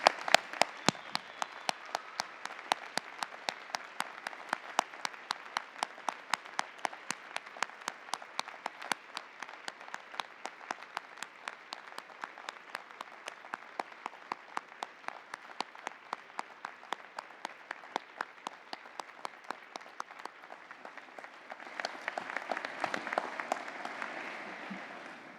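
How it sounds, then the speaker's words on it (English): A large convocation crowd of graduates claps steadily in sustained applause at a spring university ceremony, dense and even throughout, swelling louder near the end. "give a huge round of applause to all the people who supported you throughout it all"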